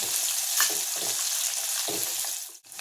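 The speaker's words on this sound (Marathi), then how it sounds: "आता यात मी एक बारीक चिरलेला कांदा घालते आणि हा कांदा थोडासा परतून घेते." Finely chopped onion sautéing in hot oil with cumin seeds, a steady close hiss of frying with light stirring scrapes, no talking.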